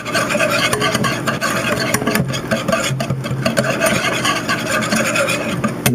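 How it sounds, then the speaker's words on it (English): A whisk stirring creme brulee custard in a pan: a steady continuous scraping and rubbing texture, close and fairly loud, running throughout without pause or talk. "just keep turning, keep whisking."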